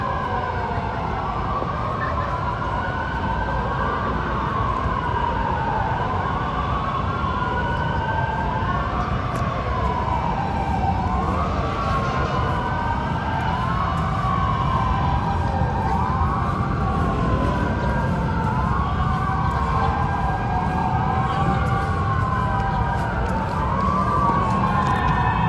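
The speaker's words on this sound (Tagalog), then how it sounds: "Tuloy-tuloy pa rin yung dating ng mga bumbero dahil nga dito sa sunog." Fire truck sirens responding to a fire near the Pasig River Esplanade wail continuously, rising and falling in a steady repeating sweep over a rumbling background, loud and close throughout.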